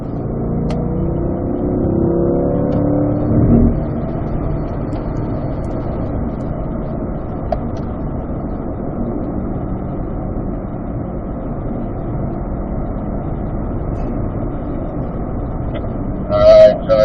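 A 2024 Corvette Stingray Z51 on practice laps at a track, heard as a steady, muffled drone of engine and road noise from inside the car, with brief faint clicks near the end.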